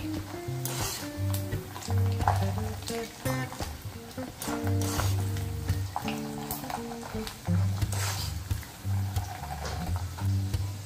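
Sabudana (sago pearls) frying in hot oil on a medium flame, a busy continuous sizzle with crackling bursts, stirred now and then, at close range.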